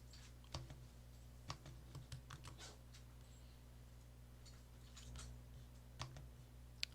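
Keyboard shortcuts are typed on a computer keyboard as faint, scattered key clicks in small quick bursts over a low, quiet room hum.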